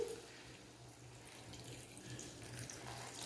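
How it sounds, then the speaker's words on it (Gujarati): A steady, quiet stream of about a cup of water runs continuously into a pan of brinjal and fenugreek curry, with no voices. "હવે આપણે ફક્ત એક કપ જેટલું પાણી એડ કરીશું"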